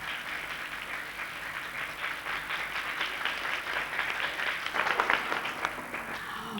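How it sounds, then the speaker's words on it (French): Children and audience at a Christian kids' club television show applaud loudly, a continuous fairly faint roar of clapping that swells near the end. "On applaudit très fort."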